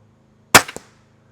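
An Excalibur Rev X crossbow fires once at 20 yards outdoors, a sharp loud snap followed by a quick second crack, decaying fast into quiet with a faint low background hum.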